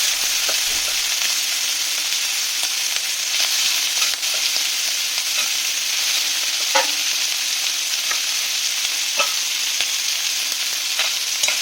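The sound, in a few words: shrimp frying lightly in hot oil in a wok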